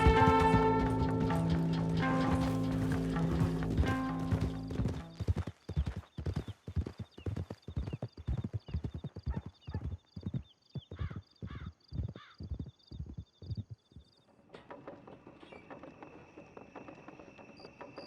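Horses gallop in Red Dead Redemption with loud, rapid clip-clop hoofbeats in a steady driving rhythm that end abruptly, then a quieter stretch of ambient noise. An occasional whinny is heard.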